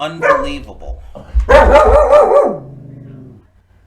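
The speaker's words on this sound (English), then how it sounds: "Sorry for the dog, mail person or delivery person." A dog barks at a mail or delivery person: a short burst of loud, close, harmonic barks and yips that peaks midway and then trails off. A person says a word quietly just before the barking.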